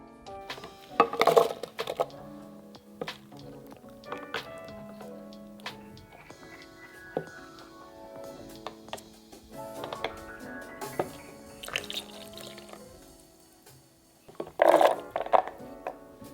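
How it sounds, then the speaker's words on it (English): A blender is washed out in a kitchen sink, with intermittent clinks and knocks of the jar and parts against the sink, plus bursts of louder rattling and splashing at the start and near the end. "we're going to wash the blender out"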